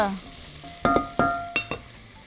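Chickpeas and tomato going into a simmering Armenian stew in a pan, heard as a few sharp clattering knocks and scrapes of a utensil over a light sizzle, with no talk.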